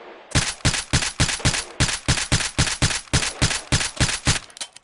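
Suppressed P30L pistol shots from a VR video game fire in a fast, steady string of about sixteen sharp, loud reports, evenly spaced and close, with no voices over them.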